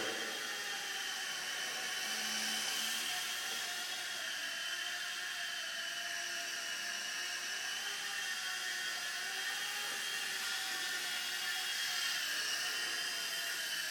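A Solo Pro V2 hybrid RC helicopter flies in a demo, giving a constant high electric whine with layered tones that waver slightly as it manoeuvres, moderately loud and unbroken, with no voices.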